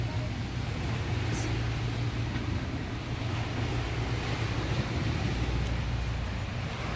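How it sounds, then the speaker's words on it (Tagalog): Steady sea surf murmuring along a coast in Japan, a broad continuous wash of waves with a low rumble and wind buffeting the microphone, constant and fairly loud throughout with no talk. "Rinig nyo yung ingay ng dagat?"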